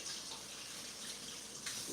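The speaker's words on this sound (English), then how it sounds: "I'm gonna wash my hands because it's quite messy now." Tap water runs steadily into a kitchen sink while hands are washed during cooking, a continuous close hiss and splash with small shifts as the hands move under the stream.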